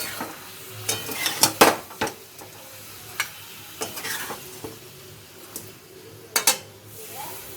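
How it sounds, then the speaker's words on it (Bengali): A spatula stirs chilli chicken with tomato sauce in a pan over low heat, giving intermittent clinks and scrapes against the metal over a faint, soft sizzle, with no voices. "অ্যাড করার পরেও ধিম আঁচে নাড়াতেই থাকতে হবে।"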